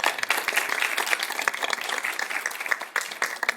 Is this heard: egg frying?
no